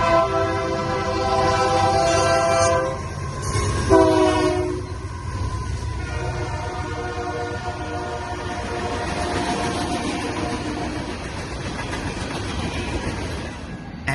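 A loud train horn blares in long harmonic blasts as a train rumbles past nearby, then steady heavy rolling noise of railcars continues.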